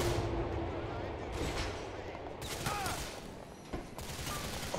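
Several gunshots ring out in GTA IV, arriving as a few separate sharp bursts amid game sounds, with someone talking over them.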